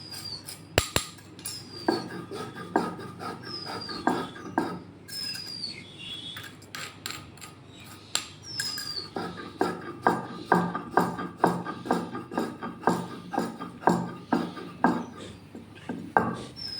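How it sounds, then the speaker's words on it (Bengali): Chili and mango paste being ground on a grinding stone by hand, with repeated rhythmic scraping and knocking strokes of stone on stone, close and clear, steady throughout with no voices. "আমি আর একবারও খুব ভালো করে সমস্তটাকে বেটে নিচ্ছি, যাতে গোটা না থাকে।"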